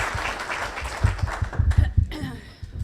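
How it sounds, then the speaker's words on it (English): A small audience at a Kiwanis club event gives brief, scattered applause, a few hands clapping close by for a couple of seconds before the sound quickly dies away. "So would you give them a round of applause for what a great thing they did for our party?"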